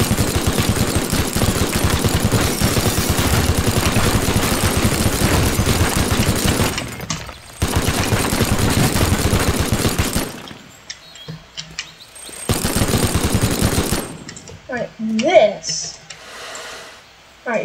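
Rapid continuous minigun fire in the video game Teardown, a dense roaring burst lasting several seconds with short breaks, then quieter clattering debris and scattered effects.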